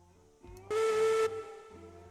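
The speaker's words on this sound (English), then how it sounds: "Remember to do the whistle before you move the train." The steam locomotive in the video game Railroads Online gives one loud, hissing whistle blast lasting about half a second, with the low rumble of the engine heard before and after it.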